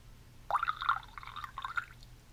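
Water poured from a teapot spout into a cup, a short trickling pour of about two seconds with splashy, bubbling flow, moderately close and alone.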